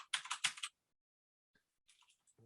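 Quick bursts of keystrokes on a computer keyboard as a password is entered, a fast cluster of near clicks followed by silence and a few softer, scattered taps.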